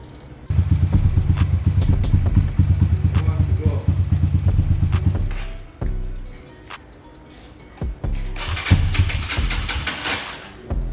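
Motorcycle engine idling steadily and loudly up close for about five seconds, then stalling out, followed by clatter and knocks before a brief restart burst near the end.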